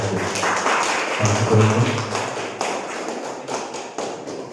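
Applause from a student organization's general assembly audience in a meeting hall: dense, sustained clapping from many hands, loud and steady, thinning out toward the end.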